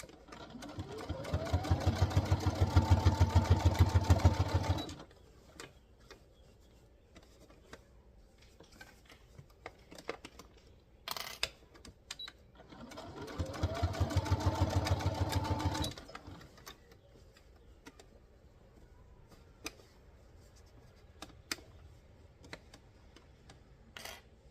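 Home sewing machine stitching a bodice onto a skirt in a dress made from vintage sheets, two sustained runs of rapid whirring with mechanical clatter, each about four seconds, close and loud, separated by quiet handling noises.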